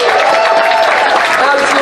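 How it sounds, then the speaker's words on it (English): Convention crowd applauding at the Fursquared 2019 opening ceremonies, a dense, steady wash of clapping filling the room with scattered cheering mixed in, loud and continuous throughout. "Give them a round of applause."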